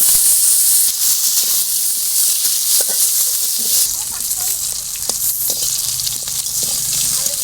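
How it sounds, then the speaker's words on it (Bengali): Potatoes frying in hot oil in a kadai hiss and sizzle loudly and continuously, with crackling pops and occasional stirring scrapes scattered throughout. "এবার আমি আলুগুলো ভেজে নেব।"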